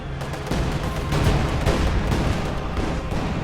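Dense gunfire under heavy fire in the World War II strategy game Company of Heroes, with overlapping rifle and machine-gun bursts and sharp blasts forming a loud, continuous battle din and no voices.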